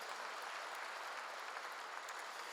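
A church congregation claps during a sermon, a faint, distant, even wash of many hands holding steady without break.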